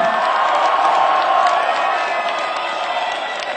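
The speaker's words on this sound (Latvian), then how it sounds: "Aplausi Radio SVH kolektīvām!" Crowd at a rock radio station's sixth anniversary party in a packed former factory venue, a loud continuous roar of cheering and applause with whoops, steady and dense throughout.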